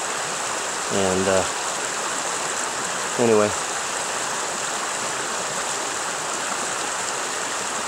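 A small woodland creek in Pennsylvania flows in a steady, even wash of running water that lasts the whole time, with two short bursts of a voice speaking over it.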